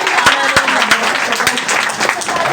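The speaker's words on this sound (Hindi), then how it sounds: "जोर से तालियां बजाए" Lively applause from a church congregation at an Easter service, steady clapping with a few sharp individual claps standing out, no voices on top.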